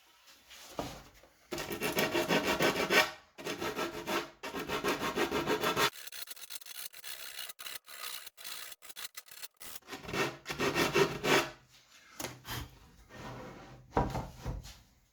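Sanding a wooden edge that has been patched with wood filler: rough, close rasping strokes in long bursts, then a run of shorter quick rubs and scrapes, with no talk.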